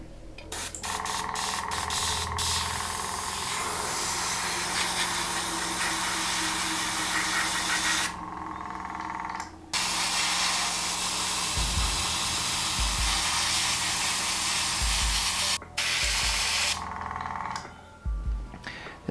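Airbrush hissing paint onto a 1/100 scale Metal Gear Ray model kit, fed by an air compressor that drones continuously underneath, with a few short pauses and low knocks as the trigger is released and pulled back.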